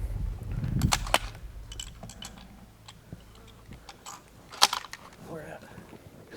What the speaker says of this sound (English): That first shot killed him outright.